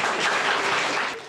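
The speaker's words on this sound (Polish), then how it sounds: "Wielkie brawa!" Audience at a school library night event applauding a guest, dense steady clapping from a crowd, close and loud, fading slightly at the end.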